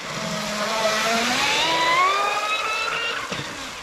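An Oxidean Dominator RC speed boat on an 8S SMC 5500 battery runs at full throttle, its high electric whine climbing in pitch as it passes fairly close. The sound then fades slightly with the rush of water.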